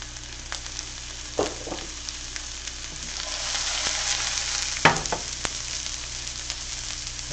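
Radishes and cabbage seasoned with salt and pepper sauté in a pan with a steady, close sizzle, broken by a couple of sharp utensil clinks against the pan.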